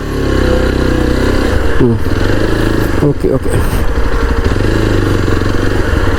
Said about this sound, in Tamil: நிறைய பேர் பைக்கை நிப்பாட்டிகிட்டு இருக்காங்க